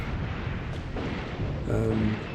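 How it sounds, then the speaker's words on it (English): Artillery shells landing in the WWII tactics game Graviteam Tactics, a cluster of rumbling distant impacts rolling together over a couple of seconds, with a slightly louder burst near the end. "My artillery's landing"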